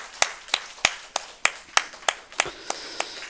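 A church congregation applauding during a Sunday morning worship service, heard as about eleven evenly spaced sharp claps, close and clear, with no voices.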